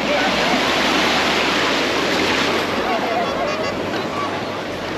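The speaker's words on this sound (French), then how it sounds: "Il y a des vagues de malades" Ocean waves crash and wash in a continuous loud roar of surf, close by, with a faint voice blending into the rushing water, on the coast near Tunis, Tunisia, on a hot day.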